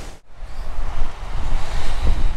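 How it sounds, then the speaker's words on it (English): Squally rain shower driven by wind at the Cauldron Snout waterfall below Cow Green Reservoir, a loud, steady broadband rush of gusting wind and water with no voices. "Here comes the rain again."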